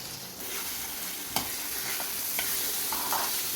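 Goat blood being stir-fried in a pan: a steady sizzle with a few sharp scraping clicks from the spatula, close and unbroken by talk.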